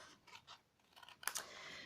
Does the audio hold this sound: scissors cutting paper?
yes